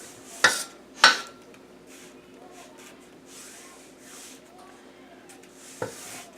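Crumb-coat icing is scraped along the edge of a mixing bowl, with two sharp metallic scrapes near the start, softer rubbing in between, and one more scrape near the end.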